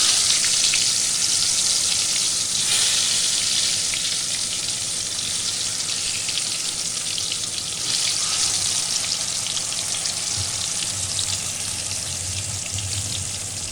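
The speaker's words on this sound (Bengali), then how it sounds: "এবার আমি ফার্স্টে আলুটা ভেজে নিচ্ছি দিয়ে দিচ্ছি আলু" Potatoes fry in mustard oil with a steady, dense sizzle that stays loud and close throughout, and a few faint stirring scrapes break through the hiss.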